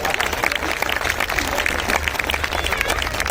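Dense, continuous audience clapping from a crowd at a live Hindi comedy poetry show with Shailesh Lodha, steady and loud throughout without pauses.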